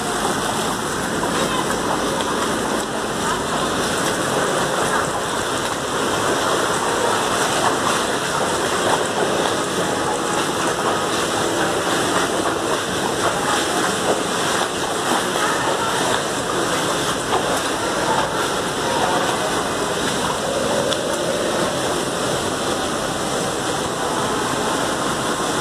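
Sewage floodwater flows steadily inside a flooded mosque, making a loud, continuous rushing and splashing wash that holds at an even level throughout.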